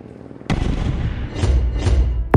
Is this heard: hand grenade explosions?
yes